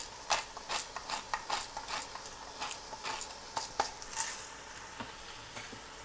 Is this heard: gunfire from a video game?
no